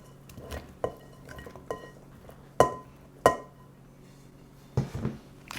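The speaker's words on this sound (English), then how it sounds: "Now we're going to combine some turkey" Turkey being combined with gravy in a bowl for a pot pie, with a series of sharp clinks and knocks of a utensil against the dish, spaced irregularly and close up, with soft scraping between.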